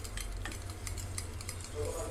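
Soup with salt just added is stirred in a pot, a steady run of close spoon scrapes and light clinks over a constant low bubbling simmer, with no talking.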